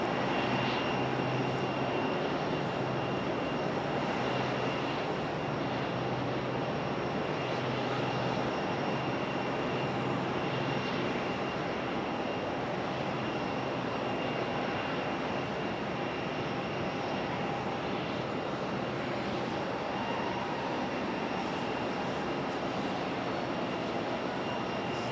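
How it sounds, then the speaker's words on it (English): A JetBlue Airbus A320 on final approach at Raleigh-Durham airport, its jet engines producing a steady, distant broadband roar with a faint whine, sustained throughout without speech. "JetBlue A320. About to touch down."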